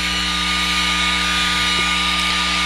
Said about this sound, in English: Double check my heat gun, make sure it's at the right temperature.